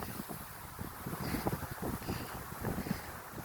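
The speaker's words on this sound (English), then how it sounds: "It's definitely pretty windy today." Steady wind blows across an outdoor microphone, a broad rushing noise with low buffeting gusts rising and falling throughout.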